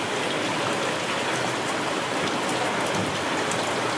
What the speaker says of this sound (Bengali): বৃষ্টি পড়ছে আজকে সন্ধ্যে থেকে।